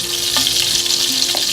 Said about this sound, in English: I have some extra virgin olive oil and I'm melting my sweet cream unsalted butter.